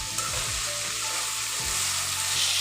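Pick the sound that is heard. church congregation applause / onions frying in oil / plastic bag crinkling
onions frying in oil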